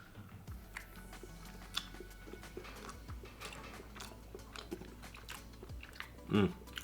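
Someone chews food cooked in a Sri Lankan cooking machine, with soft, close crunching and mouth sounds, a louder bite near the end, and voices talking in the background.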